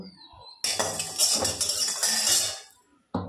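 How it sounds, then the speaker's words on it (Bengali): A metal wok clatters and scrapes as it is set down on a gas stove, a brief burst of rattling close by, followed by quiet. "কড়াইটা বসিয়ে দিলাম গ্যাসে।"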